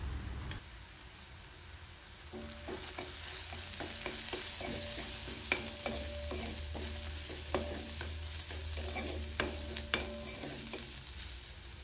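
Turmeric, coriander powder and salt masala for egg bhurji sizzles steadily in a pan, with repeated scraping spatula stirs and light clinks running throughout at close range.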